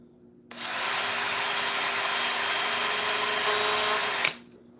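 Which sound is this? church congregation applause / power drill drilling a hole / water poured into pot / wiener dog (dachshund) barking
power drill drilling a hole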